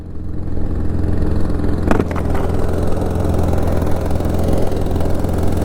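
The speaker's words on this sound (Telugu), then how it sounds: "బండి అయితే స్టార్ట్ అయింది." A Hero Xpulse 200 motorcycle idles at high altitude on the Umling La pass, its engine giving a steady, loud, continuous low rumble with a brief sharper burst about two seconds in.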